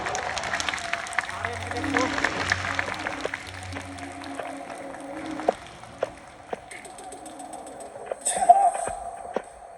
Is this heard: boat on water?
no